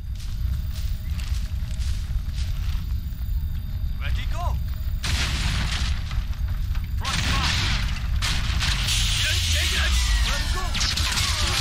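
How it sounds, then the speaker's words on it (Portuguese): Gunfire and heavy explosions in the video game Crysis Remastered, a dense continuous barrage of shots and booming blasts with thuds, loud throughout, while a player talks over it. "tá pegando tiro nessa merda"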